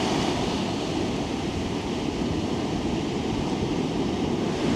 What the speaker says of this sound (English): It is getting a little windy, but yeah, we're going to head down to the beach